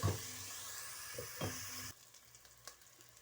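Tomato paste sautés with green chilli, ginger and garlic for kadhi, a soft sizzle with a couple of stirring scrapes that drops quieter partway through. No voices.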